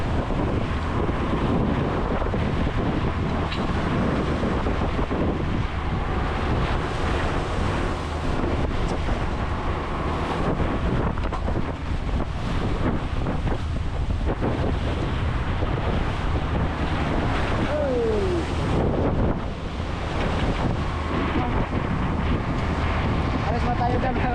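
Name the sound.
strong Pacific Ocean waves in December wind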